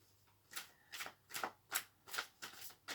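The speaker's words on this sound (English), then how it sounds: "there's a messy shuffle for the Three of Pentacles" Tarot cards being shuffled in a series of quick riffling bursts, about six soft rhythmic flurries close by in a quiet room.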